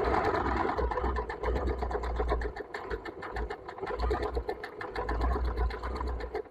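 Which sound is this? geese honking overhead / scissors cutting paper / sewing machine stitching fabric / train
sewing machine stitching fabric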